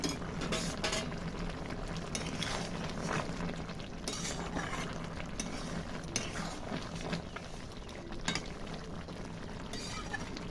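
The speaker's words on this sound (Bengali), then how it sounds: "এবার আমি 1 চামচ এর উপর থেকে ঘি দিয়ে একটু নাড়াচাড়া করে ঢাকা দিয়ে দেব" Shukto being stirred with a spoon after a spoonful of ghee goes in, soft scraping and clinking of the utensil against the pot under a faint steady sizzle, with no voices.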